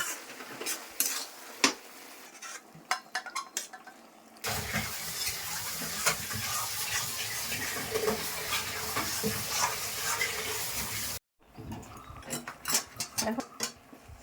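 A spatula scrapes and stirs a sizzling vegetarian ghonto curry in a pan after sugar goes in, with clattering strokes, then a loud continuous frying hiss, a sudden stop, and more stirring knocks close by.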